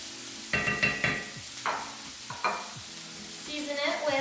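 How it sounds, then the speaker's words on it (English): Onions sautéing in a pan while being seasoned with salt and pepper, a soft steady sizzle broken by several scraping stirs of a utensil against the pan, close and moderately loud with no talking. "Gonna go ahead and get the onions about translucent, and season as you go always."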